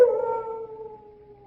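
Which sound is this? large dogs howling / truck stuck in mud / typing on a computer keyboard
large dogs howling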